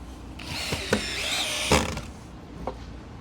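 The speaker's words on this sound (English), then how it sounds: "My drill bit's just too big." A power drill with an oversized bit bores into scrap wood for a DIY outboard motor stand, giving a steady high whine that rises and strains, broken by a few sharp knocks and clunks, close and fairly loud with no talking.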